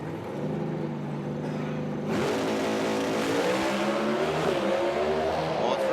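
A race car at a drag racing meet hits the wall and slides on its roof: loud engine droning with shifting pitch, then a sudden harsher grinding roar that continues steadily.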